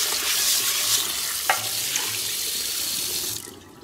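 Tap water pours steadily into a sink while a cast iron skillet is washed, a continuous hiss with a brief clink partway through before the flow cuts off near the end.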